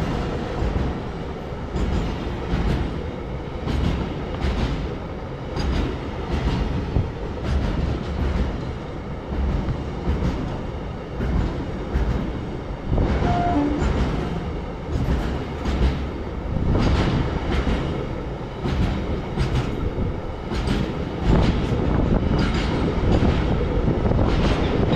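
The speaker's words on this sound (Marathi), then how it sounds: "इंग्रजांच्या काळामधून म्हणजे जो पूल आहे त्याच्यावरून रेल्वे चालली आता" A train rolls across an old British-era railway bridge, loud and close, with a continuous rumble and rhythmic clattering of wheels over the joints that holds steady throughout.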